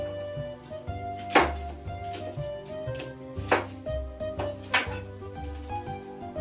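A food processor chops tomatoes and onions together for raw çiğ köfte, its blade whirring in repeated short pulses with sharp clattering hits about once a second.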